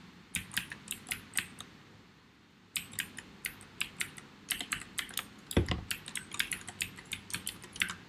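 A password is typed on a computer keyboard: quick, close keystrokes in two bursts split by a short pause, ending in a heavier key press, with no talking.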